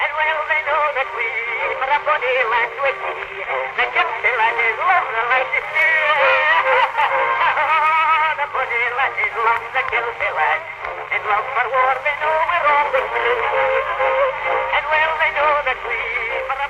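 An old recording replayed on a phonograph, a dense, narrow-band voice with a continuous hiss, playing steadily and loudly throughout.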